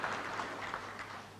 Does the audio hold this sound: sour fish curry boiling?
no